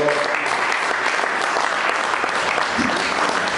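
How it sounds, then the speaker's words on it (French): A church congregation applauds loudly and steadily to give glory to God, a dense continuous wash of clapping with crowd noise throughout. "On acclame encore très fort"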